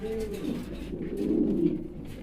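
Silver Lahori pigeons coo at close range in a pigeon loft, giving low throaty rolling calls that rise into a fuller burst near the end.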